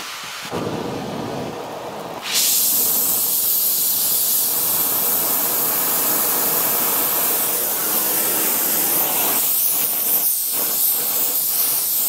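A gas torch roars steadily, loud and close, as it heats long-seized old nuts on a steam waggon regulator under repair. A softer hiss comes first, then a sudden surge as the full flame takes hold.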